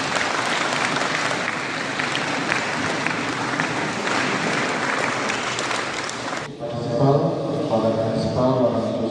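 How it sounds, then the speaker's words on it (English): An audience at a Bodo Literary Day celebration claps in loud, sustained applause that fills most of the clip, then cuts off abruptly and gives way to other sound near the end. "give a round of applause, please"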